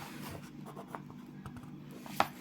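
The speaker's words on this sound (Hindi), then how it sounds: "तो हम यहाँ लिखते हैं" Pen writing a maths formula during a statistics lesson, faint scratchy strokes and small taps at close range with no talk over them.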